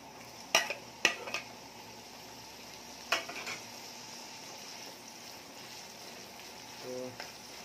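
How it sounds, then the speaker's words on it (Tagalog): Sliced hotdog sizzles steadily in a pan, with a few sharp utensil clacks against the metal early on and again midway, all close and without speech. "higisa lang natin yung hotdog"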